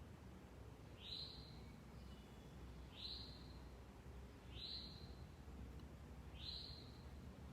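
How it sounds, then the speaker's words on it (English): A bird sings four clear, whistled phrases, each a swift down-slurred note, spaced evenly about every one and a half seconds over a quiet background. "That's a cardinal, yeah."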